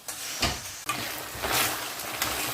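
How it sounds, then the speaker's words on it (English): Beef rendang being stirred in a pan, with soft scraping strokes and a low sizzle, quiet and close, with a few uneven stirring bursts. "now I'm going to just stir this"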